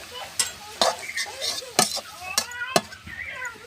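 Chopped bottle gourd leaves in hot oil in a pan: a spatula scrapes and clinks against the pan at irregular intervals over a faint background sizzle.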